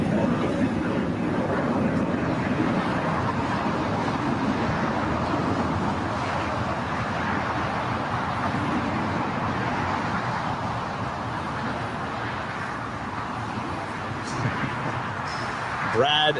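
An airliner approaches the runway at LAX, a steady broad jet roar that holds throughout under wind buffeting on the microphone, with voices talking over it.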